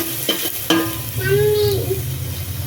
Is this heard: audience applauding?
no